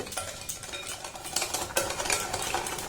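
Sugar syrup stirred in a pot, a close scraping and swishing that rises and falls in irregular strokes over a steady low background.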